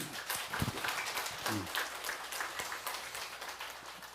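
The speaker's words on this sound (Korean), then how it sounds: "현객 스님을 큰 박수로 맞이해 주시기 바라겠습니다" At a Buddhist dharma gathering, an audience breaks into big applause welcoming the monk Hyongak, a thick, even roar of clapping from many people that holds steady throughout, heard at a moderate distance.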